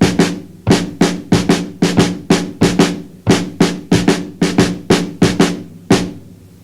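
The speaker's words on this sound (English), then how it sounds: "on the snare drum I have this" A snare drum played by Dom Famularo in a steady repeating pattern of sharp, loud strokes, grouped in uneven accented clusters with short gaps, close and alone.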